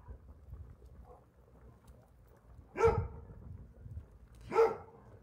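A dog barks twice, a few seconds apart, at moderate distance over a quiet background.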